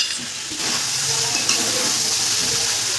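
Ground cumin and garam masala are stirred in hot ghee in a pan, giving a close, continuous sizzle and hiss with soft stirring scrapes throughout.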